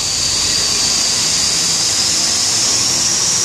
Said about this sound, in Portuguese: Estamos aqui passando de ônibus aqui em Sepetiba.